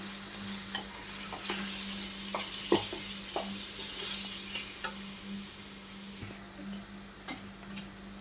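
Masala pasta stirred in a pan with chili powder, chaat masala and garam masala, a soft continuous sizzle with scattered spoon scrapes and light taps against the pan, quiet and close.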